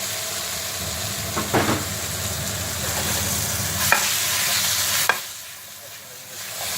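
Portobello mushrooms and onions sizzle steadily in a frying pan while being stirred, producing a constant close crackle with a few sharp scraping clicks before the sizzle softens near the end.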